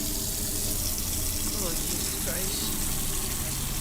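Water pours steadily into a container in a horror game, a constant gushing, splashing stream heard up close, while a voice briefly exclaims over it.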